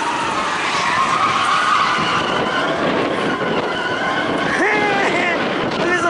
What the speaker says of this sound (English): listening to a car tear up the asphalt